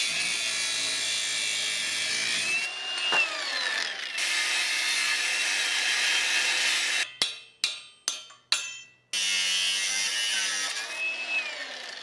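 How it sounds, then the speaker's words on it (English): A power tool cuts a section out of a metal scooter frame, a loud, steady high whine running for several seconds at a time, broken by a pause and a run of four short, sharp bursts before the cut resumes, close and alone. "First of all, I'm just going to cut this out and then see if that will actually work."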